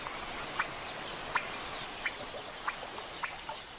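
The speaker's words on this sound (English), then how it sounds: "Plentiful water and a superabundance of insects draw hundreds of thousands of quelea finches to the" Chirping calls from a flock of quelea finches in the Kalahari, a series of sharp, brief notes spaced about once every half second over a steady hiss of distant flock noise.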